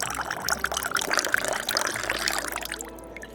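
Wine pours into a glass in a waiter-served restaurant, a steady close liquid stream with gurgling that trickles off toward the end, heard alone without talk.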